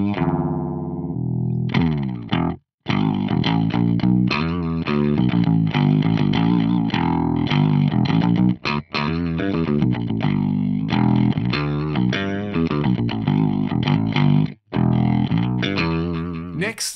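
Electric guitar run through an FM3 ring modulator block with pitch tracking switched off, giving a loud, continuous metallic, clangorous and distorted tone with a few brief gaps as the phrases change.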